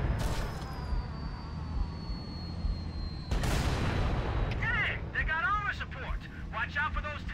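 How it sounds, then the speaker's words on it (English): Heavy gunfire and booming explosions from tanks in the video game Halo: Combat Evolved Anniversary, a sustained rumbling barrage with a sharp blast midway, followed by whistling, warbling sci-fi weapon effects. "Watch out for those tanks!"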